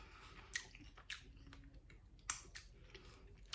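Someone chews a hot, slightly overcooked Jamaican patty close to the mic, with a few soft crunchy bites and mouth clicks spaced across a quiet background.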